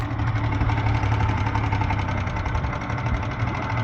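Car engine idling low and a little rough, still running old spark plugs, a loud close steady rumble with a faint pulsing shake throughout.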